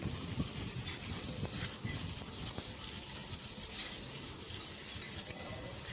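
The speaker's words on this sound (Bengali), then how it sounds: "মশলাটা একটু ভেজে নিয়ে এবারে দিয়ে দিচ্ছি আলু।" Potatoes are added to spices frying in a pan for a Bengali pumpkin-greens and lentil-fritter dish, giving a soft, steady sizzle with faint stirring and scraping throughout and no voices.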